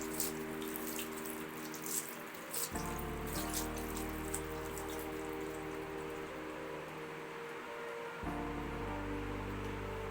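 Peeled pointed gourds (parwal) being washed under a running tap at a sink, a steady rush of water with splashing and dripping, the flow shifting in tone as the vegetables move under the stream.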